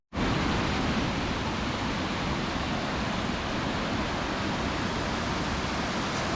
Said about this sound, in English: Now we are going to see another waterfall here.